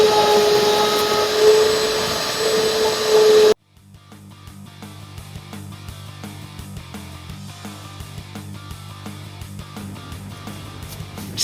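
A compressed-air blast roars steadily for about three and a half seconds, blowing debris out of a clogged part, then cuts off abruptly, leaving quieter shop noise behind.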